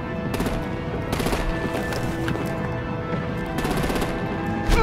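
Rapid automatic gunfire rakes vehicles in a Batman: The Enemy Within game scene, with sustained bursts of machine-gun fire and brief pauses over a dense, noisy action backdrop.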